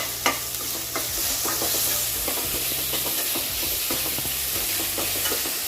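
Onion, garlic and tomato sauté in a pan for a bitter gourd dish, a steady sizzle with repeated scraping stirs close by, continuous throughout with no talking.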